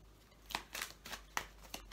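Tarot cards drawn one at a time from a deck make three or four short, crisp card slides and flicks, spaced unevenly and close by, with no voice over them.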